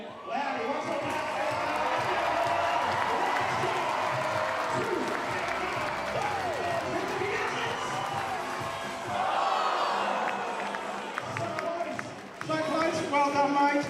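A loud basketball crowd roars and cheers almost nonstop during a prize shot at a New Zealand NBL game between the Nelson Giants and Southland Sharks, with whoops rising near the end.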